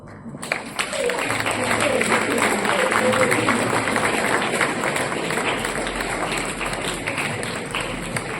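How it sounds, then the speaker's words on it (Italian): An audience breaks into loud, sustained applause that starts abruptly and continues as a dense, steady wash of clapping to the end, with a voice briefly audible over it. "Un altro applauso per favore"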